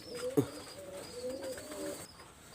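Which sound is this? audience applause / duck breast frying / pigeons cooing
pigeons cooing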